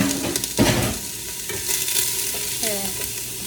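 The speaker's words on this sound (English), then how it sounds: "we just add in the carrots and get those sauteed" Carrots sauté in a warm pan with a steady broadband sizzle, punctuated by a few louder scraping stirs and clinks of a utensil against the pan, close and continuous with no talking.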